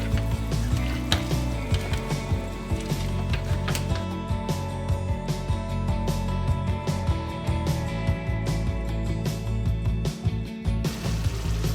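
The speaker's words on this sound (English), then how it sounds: "And then add your pasta in boiling water." Pasta drops into a pot of boiling salted water with olive oil, producing a close, continuous bubbling and squishing churn with scattered clicks and clatter throughout, fairly loud and without speech.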